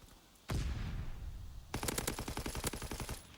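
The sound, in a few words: gunfire in a video game match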